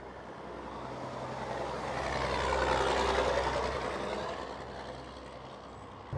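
Riding a 2024 Ducati Panigale V2 sport motorcycle produces a broad engine and wind roar that swells louder mid-ride and then eases off, steady and unbroken.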